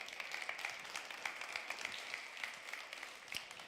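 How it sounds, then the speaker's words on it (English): Scattered audience applause at a cycling tourism award ceremony on the ITB Berlin main stage, honoring the EuroVelo 6 route winners; thin, distant clapping with individual claps standing out, fairly quiet. "Please give an applause to them."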